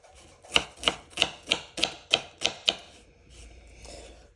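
A big onion being chopped with a small knife on a board, eight sharp, evenly spaced chops in quick rhythm, then a short quieter stretch of soft scraping.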